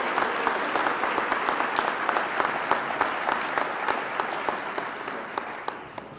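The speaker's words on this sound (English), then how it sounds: "Let's give them one more round of applause." Sustained applause from an audience at an athletic club awards ceremony for Hall of Fame inductees, a thick continuous patter of many hands with a few sharper individual claps popping out, steady throughout.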